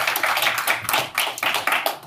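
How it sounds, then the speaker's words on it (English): Online sales and marketing session attendees clap for a presenter in uneven bursts of several people's hands, close and fairly loud, pulsing in waves with no talk over it. "let's give Krista a huge round of applause"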